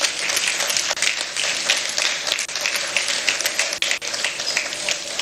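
Audience applause fills a press briefing hall for a government minister, a dense, steady wash of many hands clapping at close range, lasting throughout with brief dips and no talk over it.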